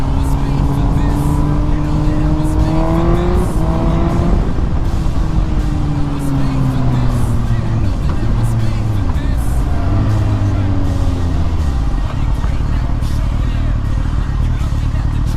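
Suzuki GSX-R1000 motorcycle with a quickshifter, engine revving up and dropping through several quick gear changes over a steady loud roar, with wind noise and a rider talking over it.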